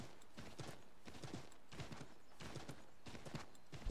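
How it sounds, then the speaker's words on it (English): Horse hooves clip-clop in the video game Assassin's Creed III, a faint steady trotting rhythm of repeated hoofbeats with no talking. "Look at all these horses."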